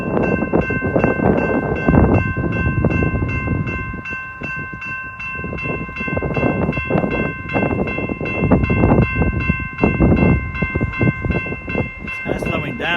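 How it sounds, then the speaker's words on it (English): An Amtrak San Joaquin 716 bi-level passenger train of five cars rolls loudly past at Oakley Big Break, slowing as it goes, with a steady rumble of wheels, sustained horn tones and brief rail clatter throughout. "here comes Amtrak San Joaquin"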